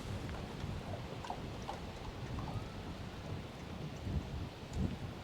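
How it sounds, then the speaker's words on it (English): Upstream wind buffets steadily while fishing from a boat, a dense rumbling roar with gusty swells throughout and no voices. "Upstream wind is just the absolute worst."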